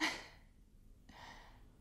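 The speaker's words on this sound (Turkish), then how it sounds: "İyice son derin bir nefes" During a yoga stretching session for hamstring flexibility, a deep breath is drawn in and let out: a soft airy rush at the start, then a longer, gentle exhale after a short pause, close and quiet.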